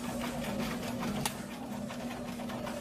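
A sewing machine back stitching at the start of a flat felled seam, a steady close whirring hum of the motor and needle running briefly, quiet, with no talk.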